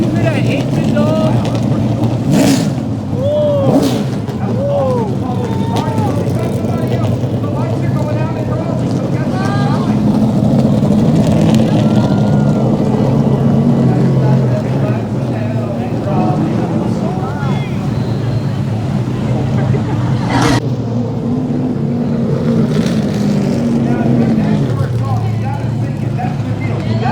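Supercar race car engines roar steadily at a race track, blended with heavy wind buffeting and a few faint voices in the background.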